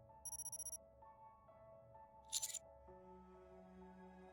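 A phone rings with a quick run of electronic beeps, then a shorter burst of trilling tones a couple of seconds later, both over a soft sustained music bed.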